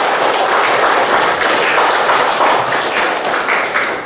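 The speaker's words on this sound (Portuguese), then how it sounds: "Uma salva de palmas para todos nós que viemos à missa." A church congregation applauds together at the close of Mass, loud, dense clapping sustained for about four seconds with little else over it.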